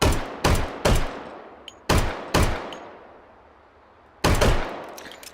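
Sharp single shots from an M1911 A1 .45 ACP pistol in the VR game H3VR, six loud reports in uneven pairs and singles, each with a decaying tail and a pause before the last.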